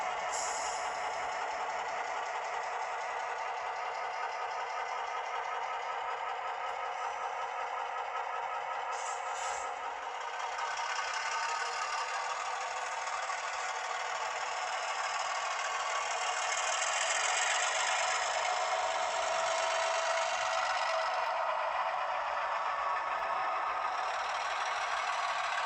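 Model railroad diesel switcher locomotive with a sound decoder, run with a ProtoThrottle, giving a steady droning engine rumble with faint rattling at moderate level, continuous and alone with only brief clicks near the middle.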